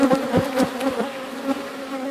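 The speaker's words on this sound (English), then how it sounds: "These bees look really busy in here." Honey bees at a backyard hive hum in a dense, steady buzz, with individual bees zipping close past in quick, rising and falling passes over the constant drone.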